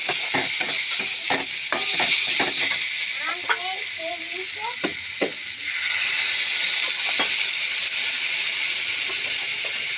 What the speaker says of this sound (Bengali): আর 2টো রসুন কুচি, একটু আদা কুচি একটু ভেজে নেব।